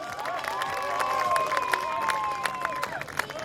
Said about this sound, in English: Big round of applause, mate.